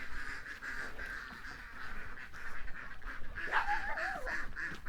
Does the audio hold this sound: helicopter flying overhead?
no